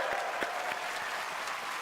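Keynote audience at a developer conference claps steadily through the whole stretch, a dense patter of many hands with a few sharper individual claps standing out, no voices over it.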